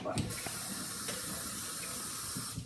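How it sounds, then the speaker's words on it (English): Tap water runs into a sink as a messy spoon is rinsed in a home kitchen, a short steady splashing stream heard close and fairly quiet, with a brief faint knock near the start. "Let me rinse it off."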